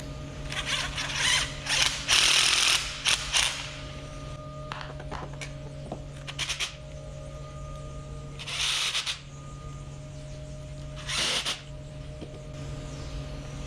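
Screws driven into rubber EASYFIX mats behind a milking parlor, heard as intermittent bursts of mechanical whirring and ratcheting separated by quieter gaps, close by with a low steady hum underneath.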